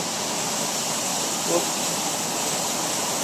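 Mountain water gushes in a steady, even roar from a stream high on a hillside, continuous and close, with a brief faint voice near the middle.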